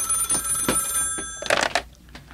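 A telephone rings in a short burst of repeated bell-like trills, clear and fairly close, with a brief pause before the next ring.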